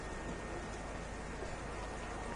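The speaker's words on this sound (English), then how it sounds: "Light rain conditions for the foreseeable future." Light rain in an F1 racing video game during a qualifying session at the Canadian circuit, a steady broadband hiss that stays even and continuous throughout, with no talk over it.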